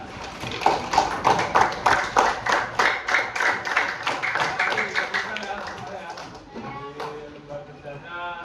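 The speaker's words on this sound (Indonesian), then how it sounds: "Kita beri tepuk tangan." A classroom of students claps hands together in a quick, rhythmic pattern of sharp, distinct beats that gradually fade, followed by voices talking.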